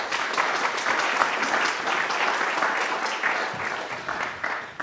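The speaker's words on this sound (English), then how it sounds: "Round of applause for our panelists." A live audience at a cannabis-industry panel event in Sacramento claps for its panelists, producing a dense, sustained round of applause that stays loud for several seconds before tapering slightly.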